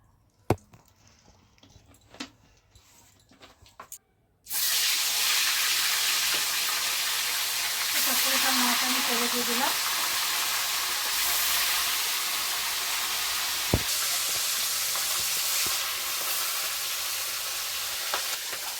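Oil hitting a hot wok for a Bengali fish curry, a few soft clinks and bumps, then an abrupt loud burst of steady sizzling hiss that carries on strongly to the end, with one sharp knock midway.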